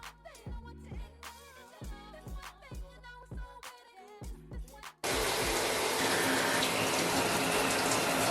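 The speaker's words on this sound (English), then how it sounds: "I'm now gonna take my shower." Shower water turns on after a stretch of music and pours in a loud, steady, close hiss that fills the rest of the clip.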